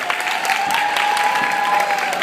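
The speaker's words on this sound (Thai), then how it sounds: "ขอเสียงปรบมือให้กับพี่เล็กบรีซี่คาเฟ่ครับ" Applause from an audience at an acoustic café performance, a dense steady clapping that holds for the whole stretch without a break.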